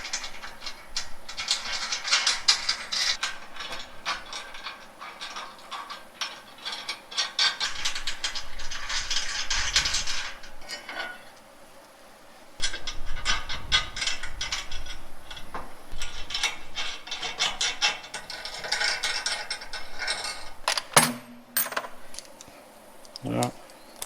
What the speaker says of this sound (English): Let's put the washers and the lock nuts on.